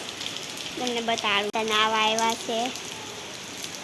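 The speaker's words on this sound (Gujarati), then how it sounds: "આ સુરતનો વરસાદ છે" Heavy monsoon rain falls in Surat, a dense, steady hiss of downpour running throughout while someone talks over it.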